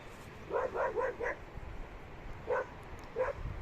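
A local dog that follows people around outdoors barks four times in quick succession, then gives two more separate barks. The barks are moderately faint with no speech.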